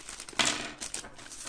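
A plastic bag of lavalier microphone accessories being opened, giving a quiet, close crinkling with one sharper rustle partway through, then a few lighter crackles.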